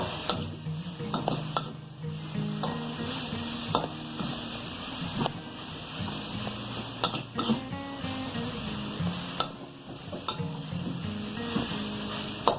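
Carrots, rice and saltfish stir-fried in a pot, a steady soft sizzle under repeated scraping and clinking of a spoon against the pan, with no one talking.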